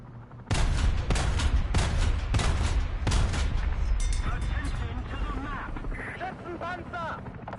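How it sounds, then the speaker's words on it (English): Heavy gunfire in the War Thunder tank game: a series of loud, booming shots in the first half, then a rumbling battle din with scattered higher chirping sounds, no speech heard. "Like to know where that fire is coming from."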